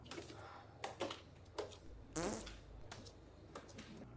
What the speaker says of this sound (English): they just add a fart sound effect